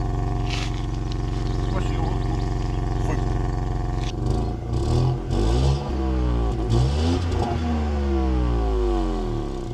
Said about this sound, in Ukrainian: Давайте послухаємо, як працює двигун.